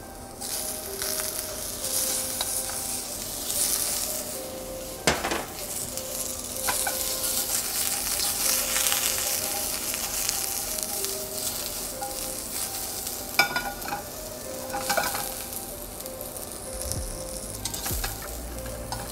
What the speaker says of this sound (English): make sure that we saute the hard vegetables first and then the green ones